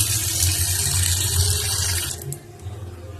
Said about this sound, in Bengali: ডালটা এখন ধুয়ে নেব।